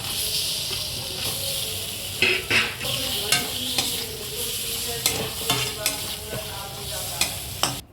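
Potatoes dropped into a spice paste already frying in oil with turmeric, a close, busy sizzle broken by repeated sharp spatula scrapes and knocks against the pan.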